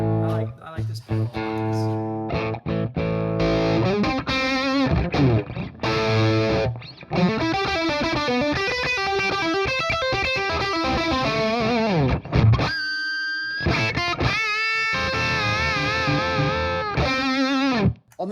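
Electric guitar runs through a modded Sovtek Bassov Blues Boy distortion pedal, with thick overdriven chords and sustained riffs playing loud and steady, broken by a brief pause near the end.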